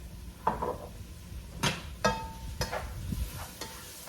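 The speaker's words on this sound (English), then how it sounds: "now I'm gonna saute this for about 10 minutes" Ingredients sautéing in avocado oil in a pan, a soft sizzle under sharp scrapes and clanks of a stirring utensil against the pan, several distinct knocks close by, no talking.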